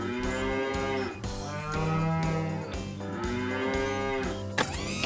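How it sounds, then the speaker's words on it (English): Long, rising moos repeat back to back, loud and close, with a brief sharp noise near the end. "We've got you mooing like a cow."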